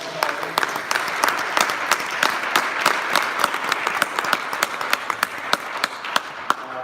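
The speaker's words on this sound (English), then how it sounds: "Can we give them another round of applause?" A large audience at a political keynote event in Washington DC breaks into loud, sustained applause, dense clapping with sharper individual claps standing out throughout.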